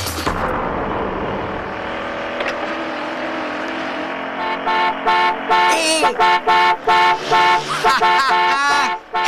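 Car horns honk loudly in a rapid string of toots for a passing wedding car, with engine noise under them; the blasts come in close repeated bursts of varying length.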